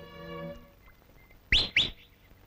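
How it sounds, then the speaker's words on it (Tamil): A person gives two quick, sharp, loud whistles in succession to call someone, after a fading musical tone. "வாய் திறந்து கூப்பிட வேண்டியதானே? காலங்காத்தால விசில் அடிச்சுட்டு."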